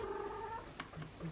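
A pet cat lets out a short, drawn-out meow, close by and moderately loud, with a faint higher squeak after it.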